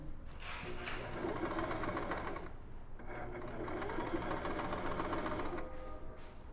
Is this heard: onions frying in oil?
no